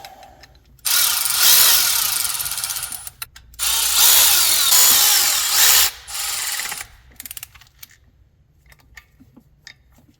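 A power ratchet runs down a bolt on the engine of a 2000 Trans Am in two loud whirring bursts, then a shorter burst, followed by faint clicks and handling noises.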